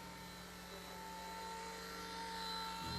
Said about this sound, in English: I love this little helicopter, and I have 2.